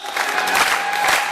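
Guests at a Kazakh wedding celebration burst into a short round of clapping, a dense close crowd applause with some cheering mixed in.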